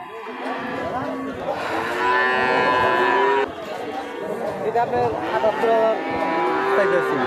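Friesian cattle at a busy cow market moo loudly and repeatedly in long drawn-out calls, close by, over a background of crowd chatter and shuffling.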